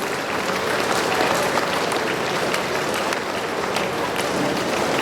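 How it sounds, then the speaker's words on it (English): A large congregation claps continuously at an episcopal ordination of a bishop, a dense, even wash of applause with distinct sharp claps standing out, steady throughout with faint voices mixed in. "Keep clapping, please."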